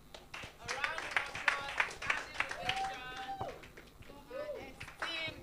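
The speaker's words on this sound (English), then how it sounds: "If that resonated with you, let's keep the applause going." Audience applause after a keynote speech at an event, a dense patter of clapping hands mixed with talk and a host's voice over a public address.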